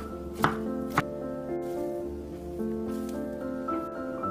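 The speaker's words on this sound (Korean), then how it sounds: "한 김 식혀준 달걀 지단을 반으로 접어 돌돌 말아주시고 얇게 채 썰어주세요." A knife cuts through a rolled egg crepe on a board with two crisp, separate chops early on, heard over gentle background music.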